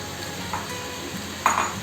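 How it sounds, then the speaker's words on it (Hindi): Tomatoes going into a hot pan of frying garlic ginger paste, a steady close sizzle with light stirring scrapes and a brief louder burst of hissing near the end. "अब मैं इसमें ऐड करूँगी टमाटर"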